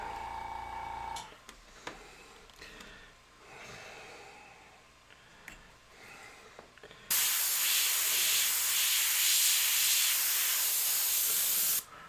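An airbrush sprays paint in one long, loud, continuous hiss that starts suddenly partway through, following a quieter stretch of faint clicks and soft handling noises.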